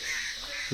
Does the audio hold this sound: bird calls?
yes